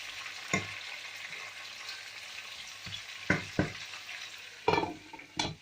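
Tomatoes and garlic fry in a chicken karahi, making a soft steady sizzle broken by several sharp scraping stirs of a spoon against the pan, with no talking.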